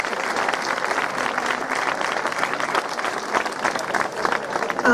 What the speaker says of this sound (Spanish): Un fuerte aplauso para Alba Brito.